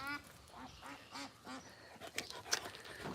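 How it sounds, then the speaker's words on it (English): Ducklings on a farm give soft, repeated quacks and peeps at a low level, a rhythmic series of small calls with faint farmyard background noise. "Ducklings."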